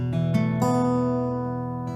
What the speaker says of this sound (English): And then we're going to go to a 5 sus chord to a 5.